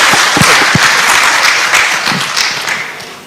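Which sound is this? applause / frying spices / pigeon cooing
applause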